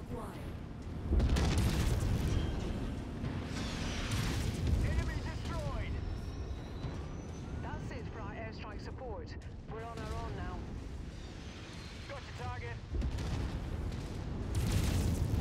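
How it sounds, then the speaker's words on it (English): Airstrike explosions rumble through a MechWarrior 5 battle, with heavy booms and blasts rolling over continuous combat noise as a voice talks over the action. "put in an airstrike right there"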